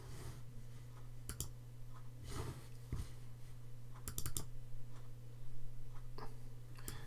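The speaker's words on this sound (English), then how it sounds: "So we'll drag that to the desktop and double click on it." Mouse clicks on a computer while files are dragged to a desktop, several sharp quick clicks in small clusters, close and crisp over a steady low electrical hum with no talking.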